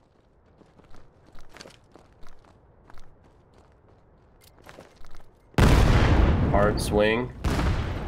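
Gunfire in the competitive shooter Vail during a playoff match, a few sharp distant shots and thuds, followed by a caster speaking loudly over the game sounds.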